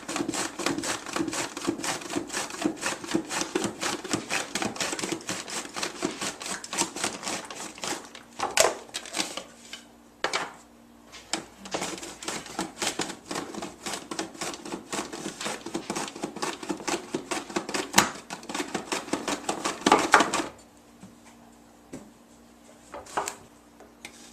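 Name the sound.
slicing zucchini with a knife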